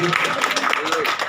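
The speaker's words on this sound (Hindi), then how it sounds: "अब्दुल राशिद भाई के लिए एक बार बहुत जोरदार तालियां बजा दीजिए" Applause from a crowd at a community foundation gathering, a short stretch of scattered clapping mixed with voices talking over it.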